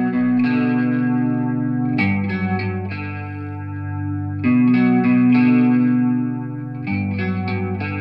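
Electric guitar playing a song's tone through the Tonebridge iPad app, heavy chorus and echo effects on clean arpeggiated notes and sustained chords, close and fairly loud with no talk.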